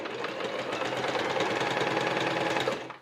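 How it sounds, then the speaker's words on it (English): A sewing machine stitches bias trim onto a dress, a steady close whirring hum with fast rhythmic needle chatter for a few seconds before winding down. "and then start sewing."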